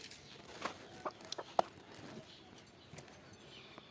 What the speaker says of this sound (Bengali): ওই যে এখন একটা মুরগি আছে